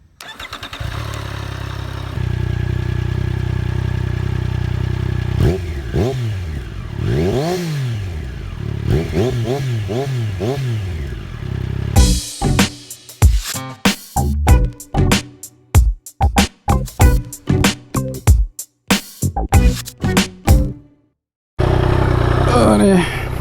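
Triumph Street Triple S A2 with its stock short exhaust: idling, then a run of rising and falling throttle blips, then a string of sharp, choppy revs and bursts cut by pauses, with a person speaking over parts of it.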